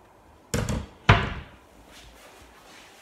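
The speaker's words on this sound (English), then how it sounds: "Similar with the doors, they just tip on." Tip-on cabinet doors on a white minimalist media unit being pushed open and shut, giving two distinct close thunks about half a second apart, each followed by a short fading rattle.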